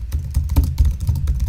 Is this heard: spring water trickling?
no